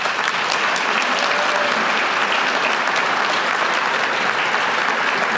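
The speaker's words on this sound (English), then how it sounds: "so let's give him a warm round of applause" A large audience at a 2025 World Affairs Council of West Michigan event gives a loud, sustained round of applause, the clapping steady and unbroken throughout with no talk over it.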